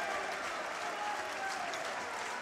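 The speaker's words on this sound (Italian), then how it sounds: "Fra lo scoscio di applausi del palazzetto entra Giacomo Cacace" Sustained applause fills a basketball arena crowd during a men's game substitution, a steady broadband clatter of clapping hands throughout with no voices standing out.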